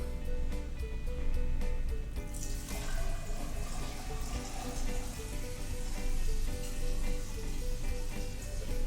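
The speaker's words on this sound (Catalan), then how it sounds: "Jo tiraré aigua calenta en aquest tub i en Pep tirarà aigua freda." Hot water is poured into a tube for a simple classroom science experiment, giving a steady splashing, gurgling water sound that runs continuously and fairly loud throughout, with no talking.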